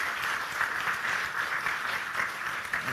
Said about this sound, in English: that, you know, requires a huge round of applause